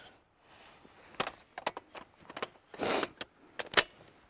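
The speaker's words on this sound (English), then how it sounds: "We have to shut the bolt in order to load the magazine." Someone shuts and handles the bolt of an SRM 1216 shotgun with a rotary magazine: a series of close metallic clicks, rattles and a scraping slide, irregular and fairly quiet.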